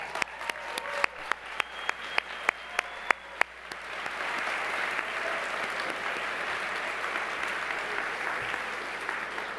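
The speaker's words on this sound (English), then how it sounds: "please stand up right now for your applause" Audience applause at a journalism awards ceremony opens with a few loud, distinct near claps, then swells into steady, dense clapping from the whole room that carries on evenly.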